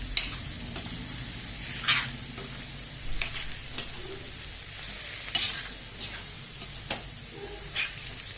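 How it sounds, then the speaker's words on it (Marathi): Potato bhaji sizzles softly in a pan while a spoon scrapes and stirs it in short, irregular strokes about every second or two, with no talking. "छान अशी भाजी अशी परतून घ्यायची मस्त भिजवून."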